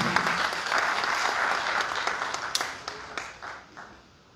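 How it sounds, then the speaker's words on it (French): Audience applause at a press conference for a mobile money transfer service in Chad, a sustained crowd of hands clapping that thins into scattered individual claps and fades out, with no voices. "Je demande qu'on applaudisse très très fort pour nous"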